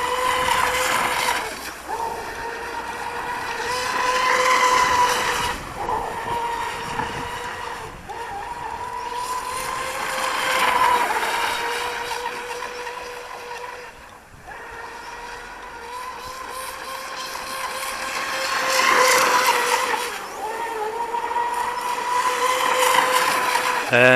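A fast electric RC boat with an aluminium outboard whines across the water in repeated passes, its high motor pitch swelling loud as it nears and dropping away between runs, with hissing spray throughout.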